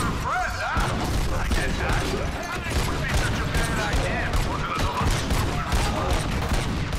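Dense gunfire from the video game Robocop: Rogue City sounds in loud, continuous bursts of rapid shots mixed with mechanical clatter and booms, with voices running over the action.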